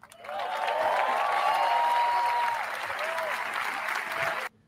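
Audience at the America Business Forum applauding Javier Milei's speech, a loud burst of clapping from a large crowd that swells, holds for several seconds, then cuts off abruptly.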